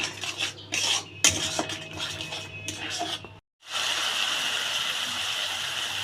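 A spoon scrapes and clinks against a pan while a yogurt masala for stuffed pointed gourd dorma is stirred and sautéed. The clatter comes in uneven bursts, stops briefly, then gives way to a steady hissing sizzle.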